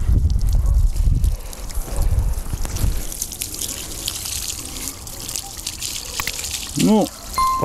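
Water gushes and splashes loudly at first as it fills the watering circle around a transplanted Nordmann fir sapling, then settles into a softer trickle while a person talks nearby.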